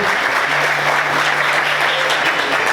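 A church congregation claps loudly and steadily in praise, a dense, even burst of many hands filling the room, with a faint sustained tone underneath.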